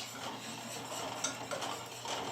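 A whisk stirs broth into enchilada sauce in a pan or bowl, giving a steady close scraping and ticking that continues throughout with small irregular peaks and no voices.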